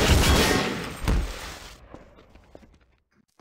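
Gunfire in Garry's Mod DarkRP: a burst of loud shots followed by one sharp crack, then a faint scuffle fading into near silence.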